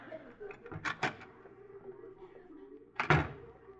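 A door opens in a 1953 radio comedy sketch, a sharp close thump with a short rattle near the end, after a stretch of muffled shuffling and knocks.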